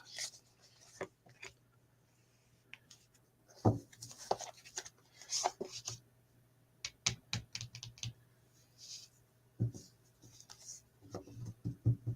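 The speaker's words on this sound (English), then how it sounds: "I'm shuffling cards" Playing cards are shuffled and riffled close by in a quiet room, in repeated soft flicking bursts and pauses with a faint steady hum underneath.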